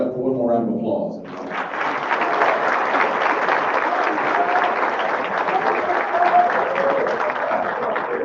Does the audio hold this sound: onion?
no